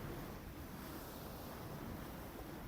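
Waves from a passing boat's wake washing against the shore or hull, a steady broadband rush with wind buffeting the microphone, no talk.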